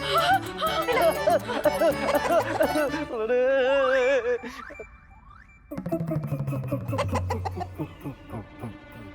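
A hen clucking in an animated Tenali Rama story, rapid bursts of clucks mixed with cartoon voices and music, then a short pause before busier sound resumes.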